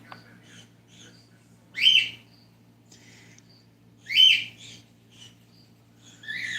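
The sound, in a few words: pet cockatiels calling loudly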